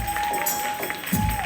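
A church congregation at an anniversary service claps and cheers together, a dense steady wash of applause with crowd voices, under a sustained tone.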